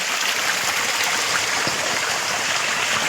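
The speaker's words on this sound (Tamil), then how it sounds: "முன்னாடி தண்ணி குதிக்கிற சவுண்டு வரும்" A steady rush of water falling at Parvathamalai, a constant broad hiss and splash with no pauses, close and fairly loud.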